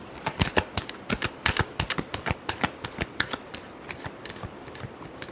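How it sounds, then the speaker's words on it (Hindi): Tarot cards riffle-shuffled close by in a run of crisp, rapid snapping bursts, dense at first and thinning toward the end, with no talking. "Last shuffle."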